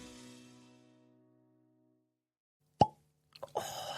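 A nearly full Old Forester 117 Series Bottled in Bond bourbon bottle gives one sharp, close cork pop, followed by faint clinks and handling noise, after a voice fades out beforehand.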